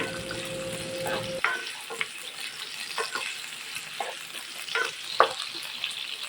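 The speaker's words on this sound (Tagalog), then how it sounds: "At magpiprito lang tayo ng ating potato" Potatoes frying in cooking oil on a stove, a brief running-water hum at first giving way to a soft steady sizzle with sharp intermittent pops and crackles, no speech.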